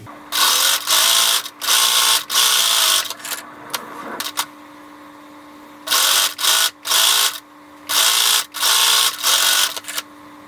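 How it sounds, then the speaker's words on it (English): A sewing machine edge-stitches a fleece cowl closed, running in short, loud, close bursts of rapid stitching separated by brief pauses, with a faint steady hum in the gaps and no speech. "just do a tiny little kind of like an edge stitch along the edge to sew it closed"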